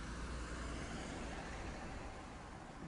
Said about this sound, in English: ignore the car sound